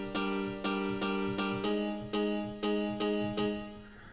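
A plucked, bell-like tone repeats evenly about eight times, each note ringing out with a soft echoing tail as a stereo widening delay effect spreads the sound.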